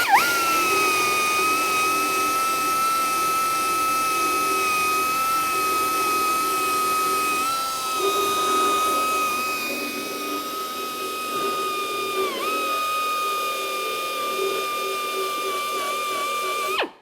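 An Eastwood mini belt sander grinds down a weld in the valley of a car body, a steady high whine running continuously and close, dipping slightly midway as pressure changes.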